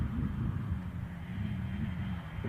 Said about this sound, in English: Oh, I can hear that Delta 350.